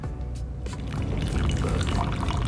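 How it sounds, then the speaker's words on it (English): Coffee is poured gently from a French press into a cup, a soft continuous liquid pour and trickle heard close up, with no voices. "we're gonna pour the coffee gently from the French press and into the cup"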